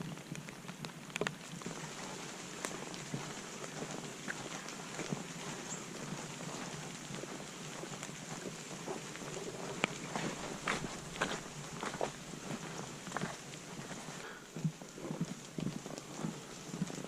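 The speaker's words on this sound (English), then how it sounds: "the rain has started for us." Steady rain patters on surfaces during a canoe portage between lakes in Killarney, with scattered footsteps crunching along the trail and occasional sharper drops, continuous and moderately quiet throughout.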